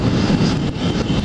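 A Yamaha XT 660Z Ténéré motorcycle engine gives a brief, loud, steady roar with a broad rushing texture, heard up close for about a second.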